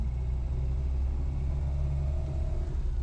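Steady, close low-frequency engine rumble inside a Renault 4L at 75,000 km as it drives along the road, unbroken and without voices.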